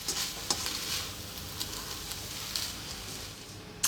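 A spoon stirring and folding fresh cilantro through smoked fish and rice kedgeree in a hot pan, with a soft sizzle under light scraping and a few clicks, close and fairly quiet.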